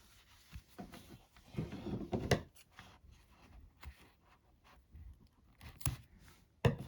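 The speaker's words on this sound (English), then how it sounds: "Now I'm just going to cut that." Scissors snip through crochet yarn on an amigurumi toy, a few short, close, dry cuts with soft handling rustles between them.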